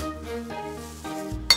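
A spoon clinks against a bowl while stirring a rice-topping sauce of soy sauce, dark soy sauce, oyster sauce and sugar, with a bright clink near the end over a quiet tonal background.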